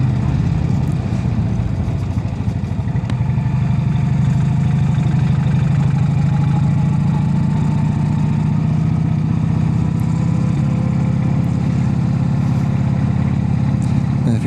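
A Brough Superior motorcycle ridden on the road, its engine producing a steady low, throbbing drone that stays loud and close throughout with no speech.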